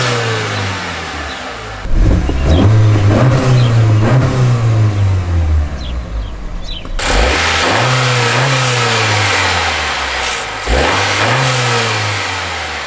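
A 2022 or newer Honda Civic engine revving with its intake removed, loud and close: a steady idle, then repeated rising and falling revs, a sharp jump to a harsher roar partway through, and further swells, with no talking.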